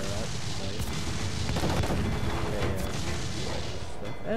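Ship cannons firing in Assassin's Creed IV: Black Flag, a dense barrage of booming blasts and crashes layered over a constant roar of naval battle noise, loud and continuous throughout.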